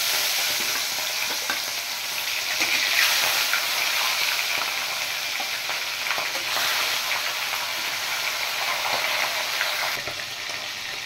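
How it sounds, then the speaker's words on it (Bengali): Pomfret fish frying in hot oil in a wok, a continuous loud sizzle with crackling bursts and brief swells, steady without any speech. "এদিকে আমি কড়াই বসিয়ে দিয়েছি, তেল গরম হয়ে গেছে। আমি মাছগুলো ভেজে নেব।"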